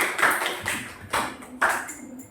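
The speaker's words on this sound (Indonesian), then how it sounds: "tepuk tangan buat kelompok 1" Classroom applause for a student group, a few short bursts of hand clapping from a small group, uneven and close, fading between claps.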